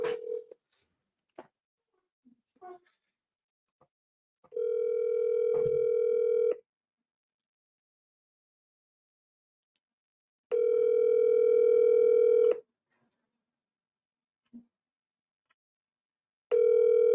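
A phone line gives short dial and keypad beeps, then repeated long ringback tones: steady two-second rings separated by silence, clear and alone, while an outbound call to a real estate agent rings through.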